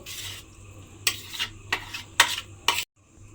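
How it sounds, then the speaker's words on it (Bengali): Mashed pumpkin goes from a pan into a bowl, giving several short, soft scraping and clattering bursts of spoon and utensil against the dish, close by and without talk, ending in a brief silence. "বাটির মধ্যে প্রথমে আমি কুমড়োটা ঢেলে নেব।"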